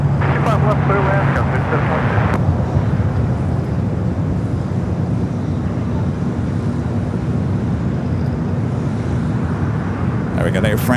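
An Air France heavy jet landing at Los Angeles International Airport, a loud steady broadband roar with wind buffeting that holds for the whole stretch, briefly under a voice at the start.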